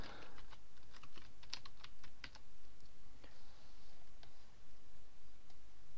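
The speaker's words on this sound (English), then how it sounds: "I'm going to type a bit of text in" Someone types on a computer keyboard in a fast, uneven patter of close clicks that runs continuously throughout.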